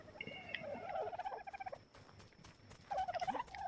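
Poultry in the Ark video game cluck and gobble in two bursts of rapid, warbling calls, close and fairly loud, with a short quieter gap between them and no talking.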